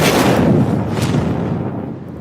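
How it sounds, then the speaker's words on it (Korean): A landmine explodes in a war film scene, a loud, heavy blast with a booming low rumble that decays over about two seconds. "지뢰를 밟은 토미의 다리가 폭발로 날아가 버리고"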